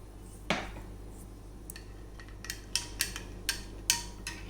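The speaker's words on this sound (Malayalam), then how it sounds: "ഇളക്കി മിക്സ് ചെയ്യാം." Spoon stirring chia seeds into beetroot and grape juice gives a few faint, irregular clinks against the container, spaced out over a quiet background.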